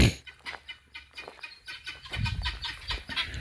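Chickens cluck and squawk inside a farm chicken coop, a busy overlapping chorus of short calls at close range that grows denser and louder toward the end.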